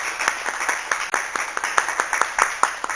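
Scattered, uneven clapping from an audience at a city council meeting, a few pairs of hands beating out irregular sharp claps for about three seconds, moderately close, with no voices over it.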